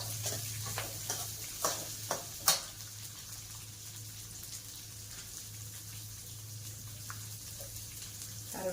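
Chopped onion fries in a pan, a soft steady sizzle beneath a few sharp clinks of a spoon stirring against the pan early on, close and moderately quiet.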